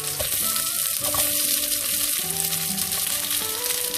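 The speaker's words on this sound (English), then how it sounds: "Also, I will add my roughly chopped onions." Roughly chopped onions hit hot oil with garlic and herbs already in the pan, producing a loud, continuous sizzle with some stirring scrapes close by.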